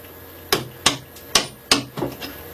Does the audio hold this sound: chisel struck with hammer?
yes